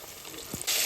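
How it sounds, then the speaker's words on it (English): Faint background hiss that suddenly swells into a loud, steady sizzle of red snapper frying in hot oil, continuing to the end. "the roller snapper. Frying up."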